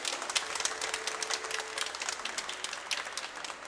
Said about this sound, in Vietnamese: Xin mời cộng đoàn chúng ta cùng nổ một tràng pháo tay để chúc mừng tất cả quý chức của chúng ta.